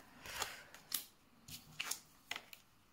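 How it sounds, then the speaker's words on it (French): Tarot cards are turned over one after another, giving a few soft, crisp snaps and flicks of card stock spaced across the moment, close and quiet with no talk over them. "Je vais retourner quand même les autres cartes."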